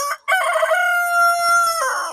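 A rooster crows once, loud and close, a long drawn-out cock-a-doodle-doo lasting about two seconds with no voices around it.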